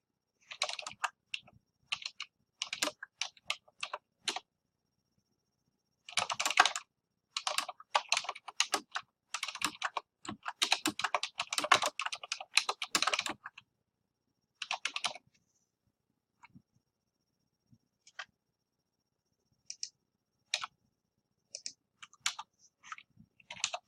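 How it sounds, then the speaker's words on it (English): Typing on a computer keyboard comes in close, rapid bursts of clicky keystrokes separated by short pauses, alone in a quiet room with no talking. "So I'm going to type for a little bit and then I'll talk."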